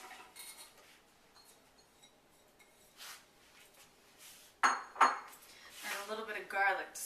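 Onions going into olive oil in a hot pan for ratatouille: a couple of sharp metallic clinks from the pan, then a rising, brighter sizzle near the end, with no talk.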